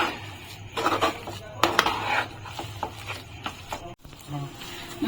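A spoon scrapes and stirs through a thick coconut and milk mixture with cardamom powder in a pan, making irregular close scraping and clinking strokes while a voice talks over it.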